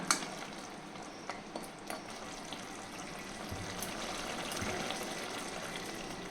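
Jute leaves drop into a pot of simmering lentil dal, giving soft, steady bubbling and stirring with a few light taps, close and fairly quiet.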